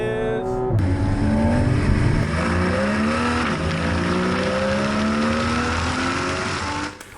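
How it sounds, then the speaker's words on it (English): A 2015 Porsche Cayman GTS with active exhaust revs hard and close, its engine note rising and falling steadily for about six seconds before cutting off, with a short lead-in before the first rev. "Oh, what's this? Is that an active exhaust?"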